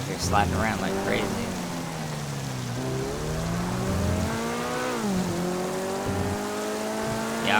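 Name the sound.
Corvette supercar engine and tire squeal in GTA Online, video game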